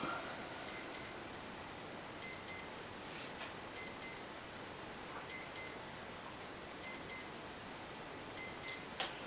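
A receiver on an MJX F645 RC helicopter with a brushless mod beeps while binding to its radio transmitter: short paired electronic beeps repeat about every second and a half over a steady faint hum.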